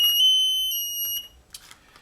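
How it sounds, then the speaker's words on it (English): Power fail alarm sounding in shrill, piercing beeps, two loud tones in quick succession and then cut off, followed by faint handling clicks. "It's going to alarm, and I'm going to immediately hit the green button to silence the alarm."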